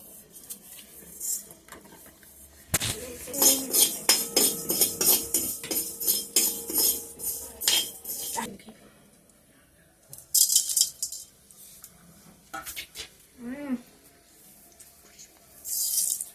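Dabeli spices such as cardamom and fennel are dry-roasted in a pan over a gas flame, giving a run of scraping, clinking and rattling metal from about three to eight seconds, followed by quieter, scattered clatter.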